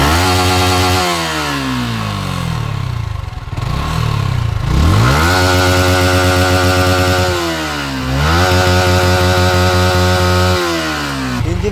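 A Yamaha R15 motorcycle engine with an overheating fault runs loud and close, its revs rising and falling in repeated sweeping surges over a steady harsh rumble, with no talk.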